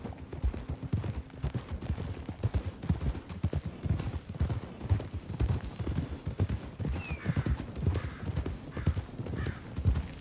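Rapid, rhythmic horse hoofbeats clip-clop steadily throughout, with a brief whinny partway through, in the video game Red Dead Redemption 2 on PS4.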